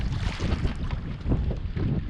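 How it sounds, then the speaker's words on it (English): Strong wind blows across a lake, a dense, continuous roar and rumble of gusts buffeting the microphone, broken by a few brief knocks and splashes. Nobody speaks. "It's actually too windy to fish, really."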